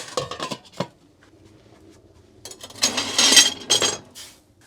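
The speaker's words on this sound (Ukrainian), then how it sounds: "Ставляємо каструльку на плиту." A metal pot clanks onto a wood-fired stove while black borscht is being prepared, giving a few sharp, close clinks and scrapes with a quieter pause between bursts.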